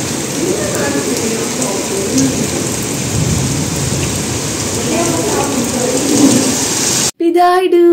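Steady rain with low rumbling thunder in Bangalore, a constant close wash of falling water that cuts off near the end, where a voice briefly speaks.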